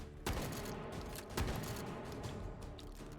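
Rapid bursts of assault rifle fire in a multiplayer video game match, with a dense rattle of shots and a couple of louder booms over a busy background.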